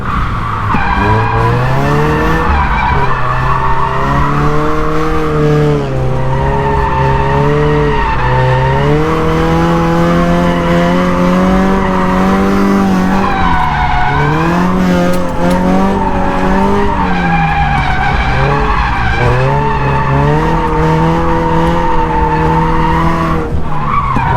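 A Scion FR-S drifts around a track, its tires squealing continuously and loudly while the engine howls and revs up and down with wavering pitch over the whole stretch, close and alone with no talk.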